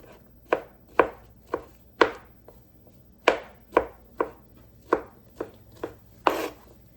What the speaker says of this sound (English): I'm going to cut up mushrooms.